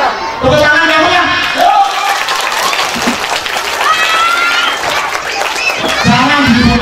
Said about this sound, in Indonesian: Tepuk tangan kamu ya.